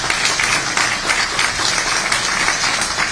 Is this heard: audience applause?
yes